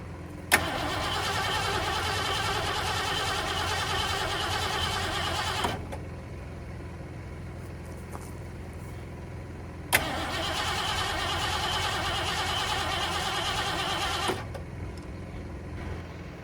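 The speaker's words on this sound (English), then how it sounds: "I'm gonna spin it over a little bit just so I can get some oil pressure before I actually try to fire it" A 1973 Ford Gran Torino engine, unrun for 35 years, cranked by its starter without firing in two long whirring bursts of about five seconds each, each opening with a sharp click and separated by a quiet pause.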